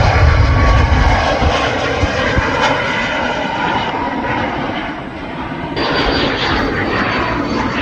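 A TUI airliner on the runway at Manchester Airport roars loudly and steadily, a broad engine rumble and whine close by that shifts in tone partway through.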